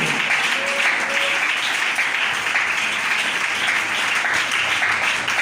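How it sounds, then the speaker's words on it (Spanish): A church congregation applauds loudly in worship, a sustained dense roar of many hands clapping evenly throughout, close and full, with no speech over it. "Denle ese aplauso fuerte a Él."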